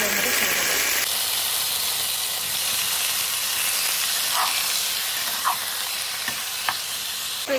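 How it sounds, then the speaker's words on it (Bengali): Onions fry in a pan alongside potatoes in a home kitchen, a steady close sizzle and hiss with a few soft stirring clicks, no talking. "এখানে পেঁয়াজটাও প্রায় ভাজা ভাজা হয়ে এসছে"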